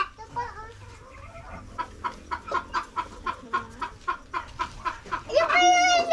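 A chicken on a farm clucks in a steady run of short, rhythmic calls, close by. A louder, drawn-out squawk comes near the end.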